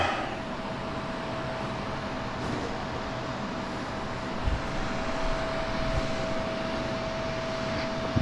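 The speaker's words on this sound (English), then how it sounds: "If you want to know how hard that fan's blowing, let me demonstrate via ball." A box fan in an emergency air filtration setup blows with a steady, broad whooshing drone and a faint constant hum, heard close and unchanging throughout, with a couple of soft knocks.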